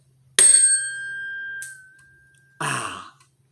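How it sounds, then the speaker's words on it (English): A tuning fork struck beside a cup of water: a sharp strike gives way to a clear, steady ringing tone that slowly fades over about two seconds, then a second noisy burst follows. "And then you're gonna get this tuning fork."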